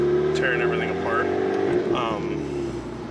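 A Volkswagen GTI engine hums steadily from inside the car while driving, just after the fuel system was taken apart and reassembled, with a person talking over the low drone.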